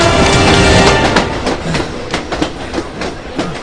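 A train roars past close by, its loud rush fading into rhythmic clattering of wheels over rail joints.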